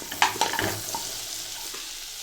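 Whole spices sizzle in melted butter in a pan: cloves, cardamom pods, cinnamon and bay leaves crackle softly while a spoon stirs with a few clinks near the start.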